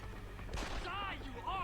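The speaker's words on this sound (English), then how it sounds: "gonna use a concussion grenade." A concussion grenade goes off in the video game Deus Ex: Human Revolution, a short sharp blast followed by a brief ringing whine, heard alone for under two seconds.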